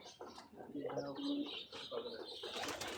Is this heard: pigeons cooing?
yes